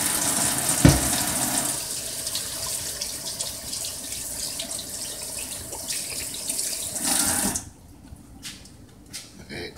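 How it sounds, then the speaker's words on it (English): A kitchen tap runs in a steady rush while hands are washed under it during a cooking challenge, a brief splash near the start, then the water cuts off and quieter handling noises follow. "And I am going to wash my hands here."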